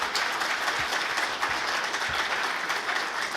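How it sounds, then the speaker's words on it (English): A room applauds at a university football press conference introducing a new head coach, with steady, moderately quiet clapping throughout and no speech over it. "How about a round of applause for the Schmidts?"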